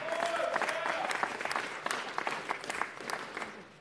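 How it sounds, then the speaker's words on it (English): An audience at a city council meeting claps steadily for a retiring Air Force veteran, a sustained crowd of hand claps at moderate distance, with a faint voice at the start. "let's give him a big round of applause for serving our country"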